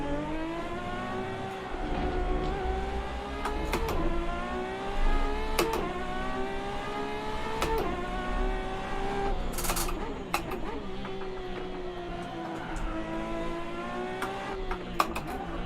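Ferrari race car in a video game lapping the Nurburgring, its engine note holding a steady high harmonic drone that rises and dips with gear changes, with a few brief sharp bursts and no talk.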